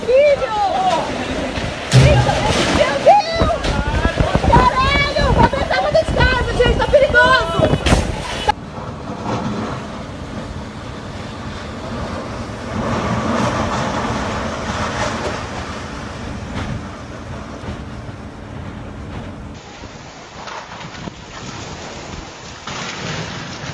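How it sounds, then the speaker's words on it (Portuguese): Hurricane-force wind roars outside during a storm in Brazil, a loud, turbulent rushing with heavy gusts and rumble; frightened voices shout over it early on before the wind continues alone. "Que ventania!"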